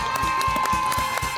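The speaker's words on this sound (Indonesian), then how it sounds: "Boleh berikan tepuk tangan." Audience clapping and cheering on a TV cooking game show studio set, a short burst of rhythmic applause with crowd noise, loud and close.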